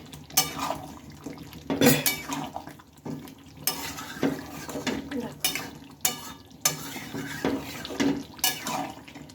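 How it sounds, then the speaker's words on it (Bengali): Mutton stirred continuously in a wok, a spatula scraping and clattering against the metal in repeated strokes over a low sizzle, with no one talking. "এইভাবে এবার অনবরত নেড়ে দিতে হবে"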